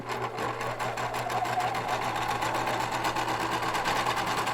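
Sewing machine stitching metallic costume fabric, a fast, even mechanical rattle of needle strokes running steadily and close, with a low motor hum underneath.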